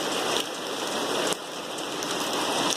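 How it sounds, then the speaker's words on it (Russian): Heavy early-morning downpour in Kharkiv during a thunderstorm with light hail, a dense, steady hiss of rain hammering surfaces throughout, with no distinct thunderclap and no voices. "Идет ливень, гроза, гром. И вместе с ливнем легкий град."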